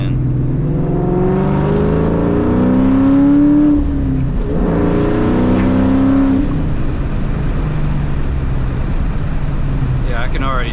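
A loud Ford Mustang Cobra engine revs hard up through the gears during power-shifting practice, its pitch climbing and dropping with each quick 2-3 shift, heard from inside the car and droning at a steady rumble afterward.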